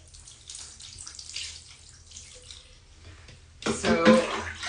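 Water splashes and rinses over a hairless Sphynx cat in a bath, softly at first and then swelling into a louder, close gush of running water near the end.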